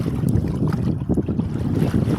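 Strong wind gusting over the Narmada river around a boat with its engine switched off, a loud continuous low rush with buffeting on the microphone and waves splashing.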